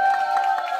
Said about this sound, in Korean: 여러분 큰 박수로 환영해 주시죠.